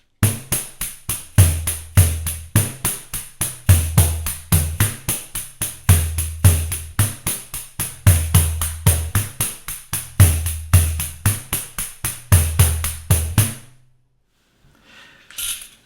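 A pandeiro beats out a steady, fast samba pattern of crisp jingle hits and deep thumps, with left-hand muffled notes, repeating evenly for a while, then stopping.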